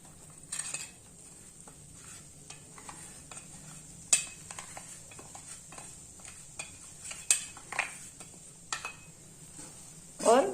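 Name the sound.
stirring besan (gram flour) in ghee in a kadhai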